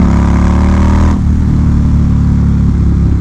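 An Indian Scout motorcycle engine roars loud and close as the throttle is punched while riding, its revving tone surging briefly before settling back to a steady running drone.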